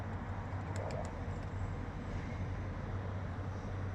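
Soft pigeon cooing under a steady low rumble of traffic or machinery, with a few faint bird sounds in the first second or so.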